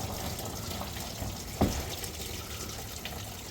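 Rusty water runs out of a car engine's cooling system, flushed with water instead of coolant, as a steady, fairly quiet trickle and gush broken by a single brief knock midway.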